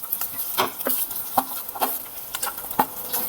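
Chopped boiled potato with misal masala is stirred in a pan over medium heat, with intermittent scraping strokes of a spoon against the metal and a faint sizzle between them, close and alone.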